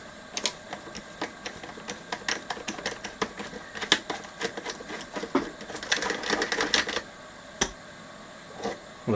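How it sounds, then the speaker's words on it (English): An 8mm socket wrench ratchets nuts off the chassis of a Tom Evans Mastergroove SR mkIII preamp, giving close, quick clicking bursts in irregular runs with short pauses, and no talk. "Just going to go with the 8mm socket."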